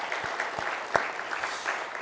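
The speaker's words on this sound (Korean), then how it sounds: "우리 감사의 박수 한번 합시다" A church congregation claps in thanks, a dense, moderately distant patter of many hands with a few sharper claps standing out. The applause runs throughout the brief stretch without speech.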